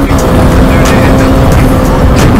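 A KTM RC390 or Duke 200 motorcycle at full power, a loud, dense, close engine roar mixed with heavy wind rush, steady for a couple of seconds without speech.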